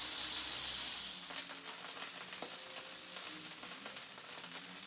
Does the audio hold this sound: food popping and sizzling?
yes